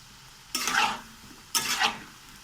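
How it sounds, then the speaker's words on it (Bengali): Tomato chips hit hot oil in a wok over medium heat, two short bright bursts of sizzling about a second apart, each fading quickly back to a low hiss. "কড়াইয়ের তেলটা মিডিয়াম আঁচে রেখে আমি সব কটি চিপস ছেড়ে দিচ্ছি, দিয়ে আমি ভেজে নেব ভালো করে"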